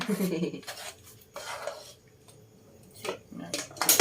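Metal pots and utensils clatter and scrape in bursts while a small pot is readied for cooking Thai nam tok pork, with quiet pauses between, close by in a kitchen; faint voices are present.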